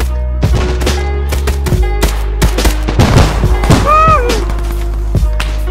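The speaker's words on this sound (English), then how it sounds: "Grenade launcher!" Action movie gunfight with a grenade launcher, loud sharp gunshots and thumping blasts firing in irregular bursts over a low rumble, with a brief wavering tonal sound midway.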